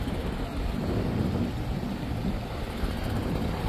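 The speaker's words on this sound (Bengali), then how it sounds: "দেখুন লঞ্চ চলতেছে," The passenger launch MV Parabat-11 from Barishal moving on the river gives a steady, loud engine drone and rushing water with some wind, continuous and unbroken.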